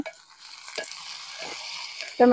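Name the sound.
tomato and chillies sautéing with onion in a pan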